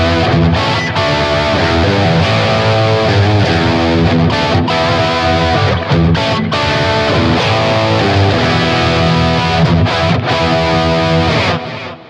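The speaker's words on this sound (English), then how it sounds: "So this is like a crunch tone with a flanger and a delay." Electric guitar through a Blackstar St James amp plug-in on a crunchy, overdriven tone with flanger sweep and delay, late-80s style, playing a continuous riff with ringing chords and echoing repeats, loud and up close.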